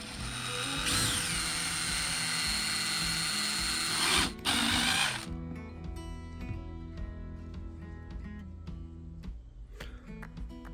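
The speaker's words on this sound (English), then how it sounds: "we'll be using basically a 3 millimeter drill bit" A power drill with a 3 mm bit drilling out screws on a knife whirs steadily, then shifts to a lower mechanical grinding and ratcheting as the bit turns, continuous and close.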